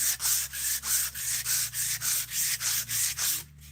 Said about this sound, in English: I'm just over here sanding a battle spoon